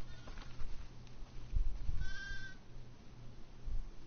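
Sheep bleat in the farm scene of The Last of Us Part II, a short nasal cry rising over low ambient game sound and soft background movement.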